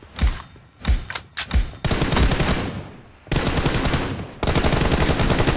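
Gunfire in the mobile battle game PUBG Mobile Lite: a few separate loud shots, then dense sustained automatic bursts that fill the rest of the clip, close and loud, with no talk.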